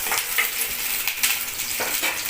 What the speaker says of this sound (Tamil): வெள்ளைப்பூடு உரிச்சு, அதையும் இதில் போட்டு வதக்கிக்கிறோம். தெரிக்குது கொஞ்சம் தள்ளியே நிறுத்தணும் பச்சை மிளகான்றதுனால.